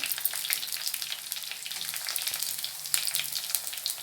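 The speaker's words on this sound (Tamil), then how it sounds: "கடுகுளுத்தம் பருப்பு பார்த்திங்கன்னா நல்லா பொரிஞ்சு வந்துச்சு" Steady, close crackling sizzle of mustard seeds and lentils frying in hot oil, dense popping throughout with no voices.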